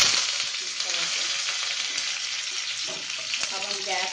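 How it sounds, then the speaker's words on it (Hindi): Mustard seeds and curry leaves sizzling and popping in hot oil for a tadka on a gas stove, a steady close hiss scattered with small crackles. "ये सरसों चटक रही है"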